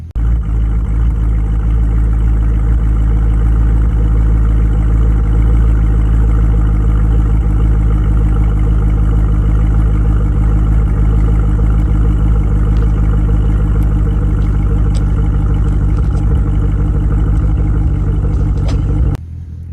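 A 2015 Chevrolet Camaro SS V8 idles loudly and steadily close by, a deep continuous rumble with slight clatter, holding an even level until it cuts off abruptly at the very end.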